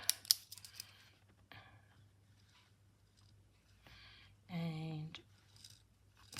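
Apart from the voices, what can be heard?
scissors cutting a man's shirt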